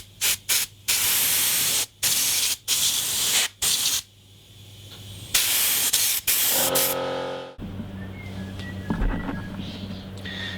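A spray gun shooting the final coat of lacquer onto a Fender Strat guitar body: loud close hissing bursts in quick repeated passes separated by short gaps, followed by a longer continuous hiss and then quieter background noise.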